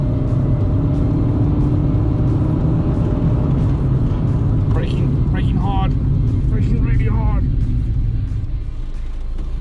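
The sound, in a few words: Fiat Uno car driving for a brake test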